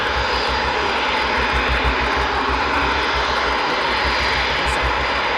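A Eurofighter Typhoon jet taxiing at RAF Coningsby at night, its engine giving a loud, steady roar that fills the whole stretch without pause.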